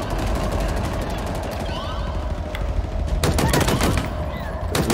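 Sustained turret gunfire in the video game Halo Infinite, a dense, loud run of rapid shots layered over game music and effects, with sharp bursts clustering toward the end.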